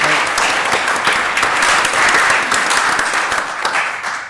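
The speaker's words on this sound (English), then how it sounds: "So if we could have another round of applause" Sustained audience applause after a talk at an evening meeting, a dense wash of many hands clapping at steady loudness for several seconds, tapering slightly at the end.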